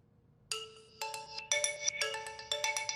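An incoming-call ringtone on a phone plays alone, a bright melodic tone starting abruptly and repeating in short pulses, clear and fairly close.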